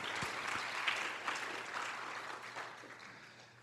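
Conference audience applauding steadily for several seconds, a dense wash of clapping at moderate level that slowly tapers off toward the end.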